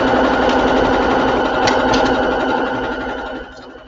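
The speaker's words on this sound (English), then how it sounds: "This is a brand new sewing machine" A brand new sewing machine stitches a blanket with a fast, loud, steady mechanical whirr close by, running for a few seconds before it slows and quiets.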